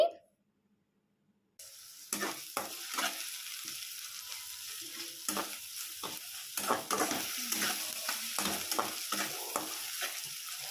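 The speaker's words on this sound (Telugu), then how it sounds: "అల్లం వెల్లుల్లి పేస్ట్ వేసుకోవాలి వేసుకొని ఫ్రై చేసుకోవాలి" Onions, green chillies and ginger garlic paste fry in a pan with a steady sizzle, broken by spoon stirring and scraping strokes. The sound starts after a short silence and stays close and moderate.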